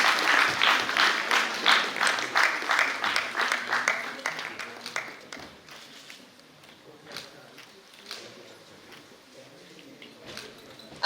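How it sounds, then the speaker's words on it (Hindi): Loud audience applause at a ceremony honoring a guest during a three-day theatre and award festival, dense clapping that swells at first and then thins to scattered claps. "एक बार पुनः जोरदार तालियां हो जाएं।"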